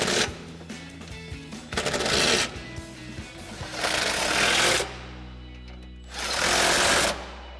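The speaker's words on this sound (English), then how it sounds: "we use our 12mm socket on our impact for our body bolts, and then our 14mm socket on our impact for our side step bolts" An impact wrench drives bracket bolts with 12mm and 14mm sockets while side step bars are fitted to a 2022-2024 Toyota Tundra. Several loud, rattling hammering bursts come close up, with brief pauses between them.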